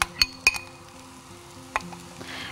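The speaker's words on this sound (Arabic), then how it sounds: "طيب هناخد البصل بتاعنا نحمره" Onions fry in a pan, a soft sizzle under sharp clinks and scrapes as a utensil stirs against the metal, close and intermittent, no speech.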